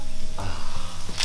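Buttered hot dog buns laid butter side down on a hot grill, giving a steady soft sizzle with a few brief scraping touches.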